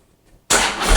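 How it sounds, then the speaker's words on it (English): A Harley-Davidson motorcycle engine fires up after a fuel filter swap, a loud sudden catch from near silence into a rough, full-bodied running roar. "see if we can prime this thing up and fire it up"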